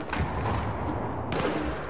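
Dense, continuous gunfire from the video game Battlefield 4 on PS3 during an online match, with overlapping bursts that form a steady loud barrage from start to finish.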